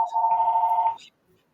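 A landline telephone rings once with a steady electronic tone lasting about a second, fairly loud and close, as an unanswered spam call comes in during a talk show.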